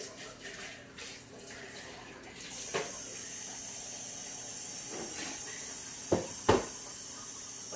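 Water runs and splashes at a kitchen sink or bowl while hands are wetted for shaping tamales de chipilín with cheese, a soft steady hiss with a few brief louder splashes near the end.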